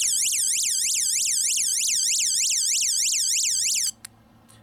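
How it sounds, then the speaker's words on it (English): A loud electronic siren from an LED tactical flashlight whoops up and down in rapid repeating cycles for nearly four seconds, then cuts off abruptly, leaving faint background hum. "this one has like an alert siren on it"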